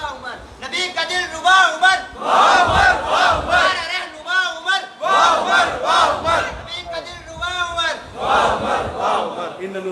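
A large crowd at a religious seminar chants slogans in unison, loud and close, with repeated rhythmic shouted bursts answering a leading voice.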